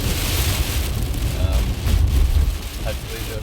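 Rain falling outdoors, a dense hiss with low rumble throughout, steady and close, with a faint voice now and then beneath it.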